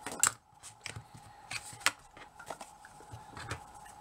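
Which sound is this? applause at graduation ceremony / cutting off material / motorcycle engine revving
cutting off material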